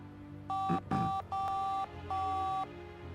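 Telephone dialing tones from The Da Vinci Code video game: four clear keypad tone bursts in an uneven rhythm, loud and close, with a soft background hum and no talk.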